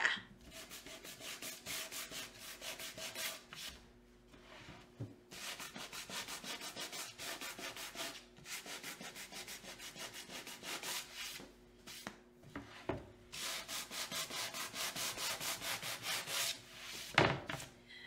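Sandpaper rubbing over a painted surface in steady back-and-forth strokes, repeated in several bursts with short pauses, close and fairly quiet with no talking.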